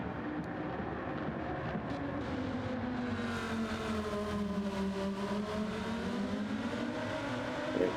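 Race cars in Gran Turismo 7 sweep past one after another, engine notes rising and falling in pitch as they approach and pull away, moderately loud with no talk over them.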